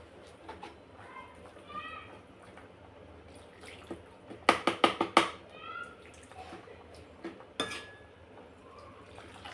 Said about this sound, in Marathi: आता ह्याच्यात मी गरम पाणी घालते